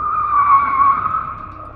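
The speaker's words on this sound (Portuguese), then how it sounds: "mas um carro descontrolado chega atingindo-os" An out-of-control car skids with a sustained, high tire squeal that swells and then eases slightly over about two seconds, heard alone without voices.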